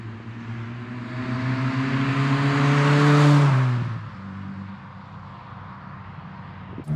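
A Ford Fiesta engine drives steadily, climbing in pitch and loudness for a few seconds before easing off abruptly and settling into a quieter, even cruising hum with road noise.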